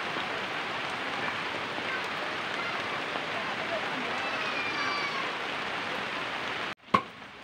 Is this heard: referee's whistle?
no